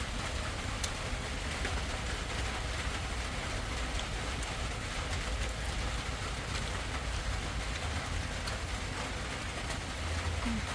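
Steady rain falls over rice fields on a wet day, a continuous, even broadband patter with a low rumbling undertone and no voices, holding constant throughout.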